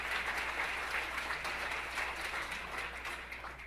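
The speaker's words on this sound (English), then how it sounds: "he deserves that applause." Steady, fairly distant audience applause in a banquet hall at a charity gala dinner, a continuous wash of many hands clapping over a low hum, with no voices standing out.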